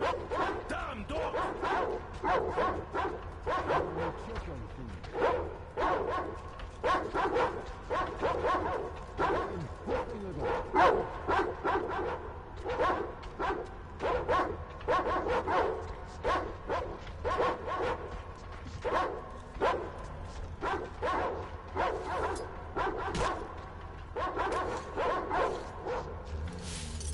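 Dogs bark repeatedly in kennels within the post-apocalyptic shooter Metro: Exodus, a dense run of yaps and woofs over a steady low game ambience throughout.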